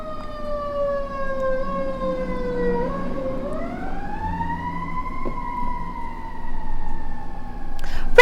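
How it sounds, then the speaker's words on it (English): An emergency vehicle siren wails steadily, its pitch gliding up and holding, fairly close, over a low rumble of traffic. "sorry for this siren."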